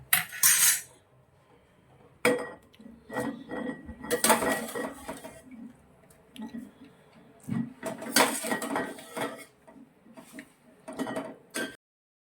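Boiled cauliflower moved into a dish with a metal utensil, giving close clinks and scrapes of metal on pots and plates in short clustered bursts separated by quiet gaps.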